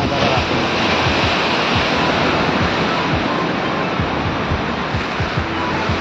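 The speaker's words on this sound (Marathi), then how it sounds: "इतक्या मोठ्या मोठ्या लाटा येतात ना," Big sea waves crash continuously along the Goa coast, a loud, steady roar of surf with rumbling low breaks and wind buffeting the microphone throughout.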